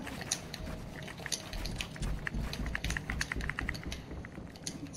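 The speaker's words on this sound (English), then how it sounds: "Are you typing? Like, are you texting or is that your controller?" Game controller buttons clicking rapidly, sounding like someone texting on a phone, a steady patter of small plastic taps, close but quiet, with no talking.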